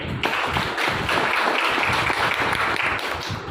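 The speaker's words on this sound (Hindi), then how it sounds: "जोरदार ताली बजाएंगे" Loud applause from the crowd at an Ayurvedic wellness business meeting, a full, continuous roar of clapping with sharper individual claps poking through, sustained evenly from start to finish.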